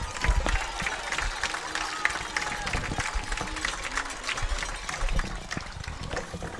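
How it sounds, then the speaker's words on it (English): A high school varsity football crowd at a night game, many fans on their feet, cheering and applauding steadily from the stands, broad and continuous with scattered shouts heard through an open window. "Listen to the crowd."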